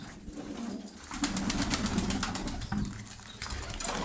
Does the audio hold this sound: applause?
no